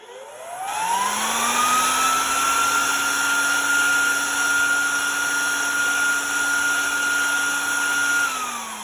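A 3D printed hand dryer with LiDAR sensing starts up with a rising whine, then runs as a steady loud motor and fan whir, close by, for several seconds before it begins winding down at the end.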